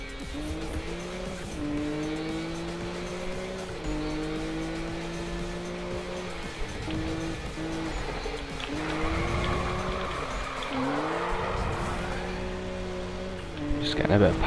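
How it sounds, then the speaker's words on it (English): A Nissan Skyline R34 drifting in a racing video game: the engine rises and falls through gear changes while the tires squeal in long skids through the corners, with someone talking over it. "show you what this car is like for drifting"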